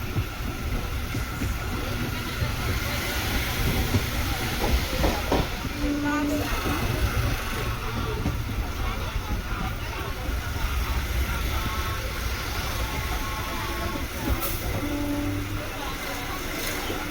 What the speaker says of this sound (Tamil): தமிழ்நாட்டுக்குள்ள ரன் ஆகிற லாங்கஸ்ட் மெமு ட்ரெயின் இதுதாங்க.